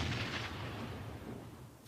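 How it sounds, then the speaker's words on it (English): A grenade blast in PUBG, one muffled, rumbling boom that decays slowly over about two seconds, faint and distant. "Some grenades coming in towards him."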